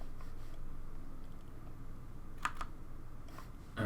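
Computer keyboard keys pressed while working in Blender, a few faint soft clicks spread apart in a quiet room, with a slightly louder tap near the end.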